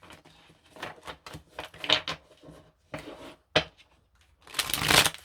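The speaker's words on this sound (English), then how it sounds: "Good shuffle." A deck of angel tarot cards is shuffled by hand in a quiet room, giving close, irregular bursts of riffling and tapping with short pauses between them, ending in a longer, louder flurry.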